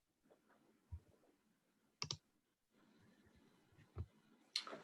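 A computer mouse clicks during an online bridge lesson: a few sharp, separate clicks spaced about a second apart, fairly close, over faint room noise.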